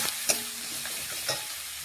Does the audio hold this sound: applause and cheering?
no